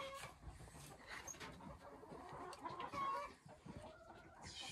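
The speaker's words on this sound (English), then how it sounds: "Time to see if that chicken is still nesting on those eggs." A chicken sits nesting on its eggs, giving faint, scattered clucks and soft calls amid barnyard clatter and rustling, heard from close by on a rainy homestead.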